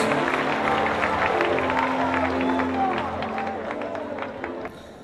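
Congregation applauding and glorifying during an Assembleia de Deus church service, a dense sustained crowd of clapping mixed with voices and murmur, loud at first and easing off toward the end.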